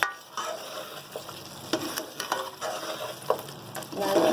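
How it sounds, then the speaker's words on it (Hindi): A Peshawari charsi dumba karahi of lamb, with long-cut ginger and green chilies, is stirred in a hot karahi, giving a close, crackling sizzle with uneven scraping and clattering strokes and no talk. "लंबी कटी हुई अदरक, ये थोड़ी सी मिर्चें हरी वाली, तो हम मिक्स करेंगे।"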